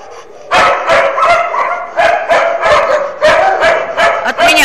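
A dog barks loudly and close by in repeated bursts, several barks in quick runs with short gaps, alone without talk.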